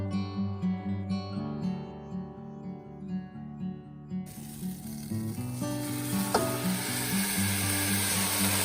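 Ground cherries warming in a pot for jam give off a steady sizzle and bubbling with occasional stirring clinks, growing louder and denser toward the end, with no voices.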